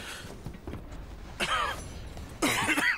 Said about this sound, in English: It's that cough.